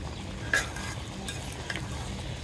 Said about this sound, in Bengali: আলু দিয়ে আবার একটু কষাবো